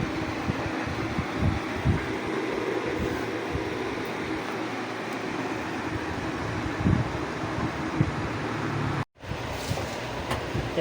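A homemade electric fan driven by a 12-volt motor runs with a steady, close, airy whir and hum that continues without a break, cutting out for a moment near the end.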